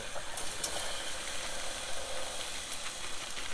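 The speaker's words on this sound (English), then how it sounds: "I'll take my onion, and I'm going to drop my onion." Chopped onion dropped into a hot pan for chuck wagon beans gives a continuous, moderately quiet hiss and sizzle with small crackles, alone with no voices.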